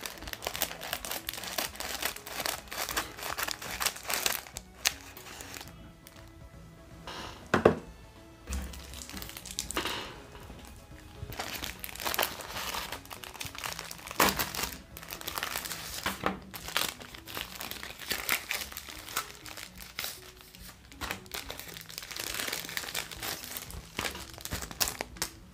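Plastic packaging crinkles and tears in repeated bursts as it is pulled open, close and busy throughout with brief pauses between handfuls.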